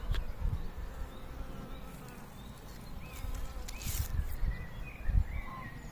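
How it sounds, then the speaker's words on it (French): Bees buzz around a flowering Golden apple tree in a spring vegetable garden, a soft continuous droning hum with brief louder passes close by. "Les petites abeilles font leur travail."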